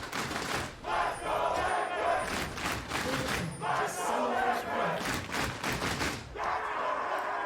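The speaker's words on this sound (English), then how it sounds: "Team Liquid's fans roar to life" Esports arena crowd at an LCS Spring 2022 playoff match between Evil Geniuses and Team Liquid, cheering and roaring loudly and continuously with surging waves of noise, under bursts of shouting.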